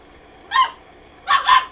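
A puppy shut in its crate gives two short barks about half a second apart, close and clear, against quiet indoor background.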